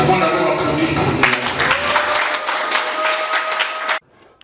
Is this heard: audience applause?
yes